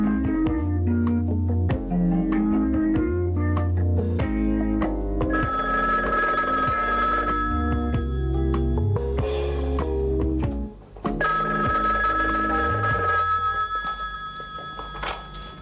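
A telephone rings insistently in an Algerian film scene, bright repeated bell-like tones that sound steadily over a full, loud soundtrack with no talking.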